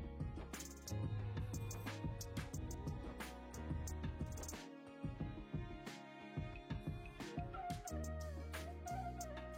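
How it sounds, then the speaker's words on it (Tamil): A bird gives loud, repeated gobbling calls close by, rapid rattling bursts over a busy, layered background. "இது பறவை."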